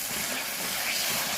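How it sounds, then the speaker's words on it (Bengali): Chili paste sautéing in a pan for chicken stomach curry, a steady close sizzling hiss that runs unbroken and fairly loud throughout. "এবার লঙ্কা বাটাটাও এর সাথে কষিয়ে নিলাম।"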